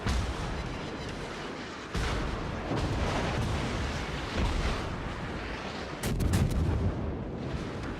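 Naval gunfire from warships in World of Warships, a run of heavy booming shots with rumbling tails, one loud salvo landing near the middle; no voices.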